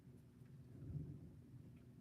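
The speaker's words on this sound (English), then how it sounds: "Ooh, we just got thunder here." Thunder, a faint low rumble swelling and fading across about two seconds, heard alone with no talk.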